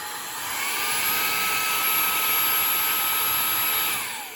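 A Xiaomi Mi Vacuum Cleaner Mini handheld vacuum runs steadily with a high-pitched whirring whine, swelling slightly and then easing off near the end, close and loud.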